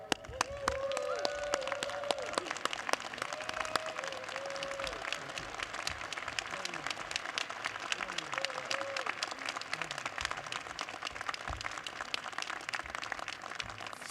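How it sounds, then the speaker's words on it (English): Audience applause fills the New York City College of Technology commencement ceremony hall, steady and sustained throughout with dense clapping from a large crowd, while faint voices and whistles drift through underneath. "give a big round of applause to your president, President Ross Hostler?"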